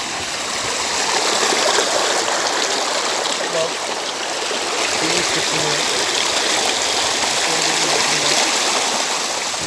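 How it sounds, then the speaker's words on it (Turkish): A small stream flowing toward the Çiseli waterfall in Ordu, Turkey, a loud continuous rushing and trickling of water close by, steady throughout with faint low gurgles. "Bu küçük su akıntısı şelaleyi meydana getiriyor."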